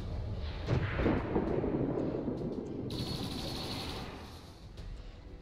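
Turret gunfire in the XCOM 2 War of the Chosen strategy game, a dense rumbling barrage of shots and blasts, loud and continuous, with a sharper crackling burst near the end.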